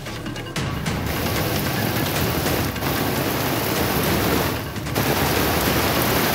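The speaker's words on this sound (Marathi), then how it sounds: "पावसानं जोरदार हजेरी लावली आहे" Heavy monsoon rain pours down in Kalyan-Dombivli, a dense and constant hiss close by that dips only briefly a few times.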